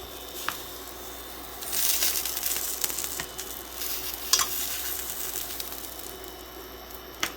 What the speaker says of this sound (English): this pan, which is frying up on me